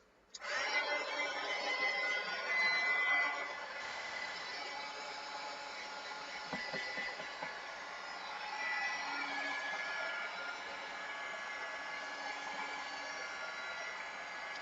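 A hair dryer blows steadily on acrylic paint during a beginner painting session, a broad continuous whoosh that runs loud at first, eases slightly, then holds on with a faint shift in pitch.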